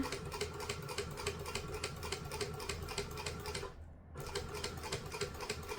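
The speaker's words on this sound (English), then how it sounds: "Now we do want to stitch all of the edge of this." A sewing machine runs steadily, stitching along a fabric edge with a fast, even needle chatter that pauses briefly partway through before resuming at the same pace.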